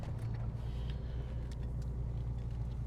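A 1972 Datsun 240Z's straight-six engine hums steadily while cruising at speed on a farm road, a constant low drone with road rumble heard from inside the car, no one talking.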